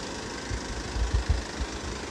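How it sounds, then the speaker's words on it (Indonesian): A used Isuzu Elf microbus engine idling, a low, steady rumble with rhythmic knocking pulses, close and even, with no voices. "Ya, kita matikan mesinnya dulu."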